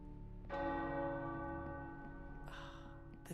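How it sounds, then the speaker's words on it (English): Tower church bells ringing in the video game Marvel Midnight Suns, a long resonant bell strike with sustained humming overtones, followed by a second brighter strike near the end, heard alone. "The tower bells are ringing."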